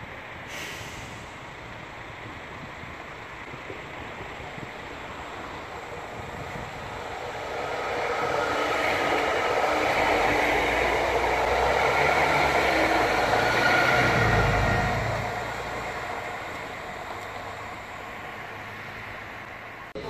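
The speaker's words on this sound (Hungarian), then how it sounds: "ezzel a vonattal megyünk vissza Győrbe" Interior rumble of a train riding from Sopron to Győr, a steady low roar that swells louder through the middle stretch before easing back, with no talking.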